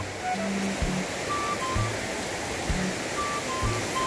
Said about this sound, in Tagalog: Tatawid po pala ng ilog mga kalingap.